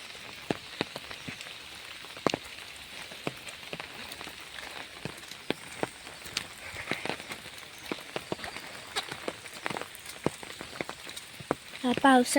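Steady rain patters on a surface with scattered sharp drops, fairly quiet and continuous, with a brief burst of chirping or squeaking near the end, at an agricultural university campus in Wakawali, Konkan.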